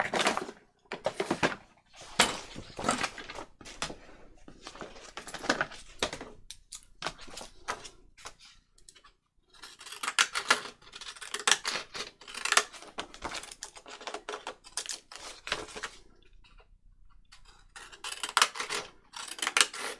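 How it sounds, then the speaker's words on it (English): Repeated crisp snips of decorative-edge scissors cutting through paper, steady clusters of sharp clicks over a long stretch with brief pauses between runs. "I'm just going to cut the rest of it with my decal edge scissors"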